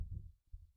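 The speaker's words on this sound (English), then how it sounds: "The kind of silence that fills your ears with the sound of your own heartbeat" A slow heartbeat thuds low and muffled, two dull pulses separated by a brief near-silent gap, heard close and alone.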